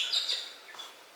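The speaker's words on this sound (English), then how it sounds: "They're galahs, they're one of the cockatoo family." Galahs, an Australian cockatoo species, give a couple of brief high chirping calls, fairly close and fading quickly into quiet.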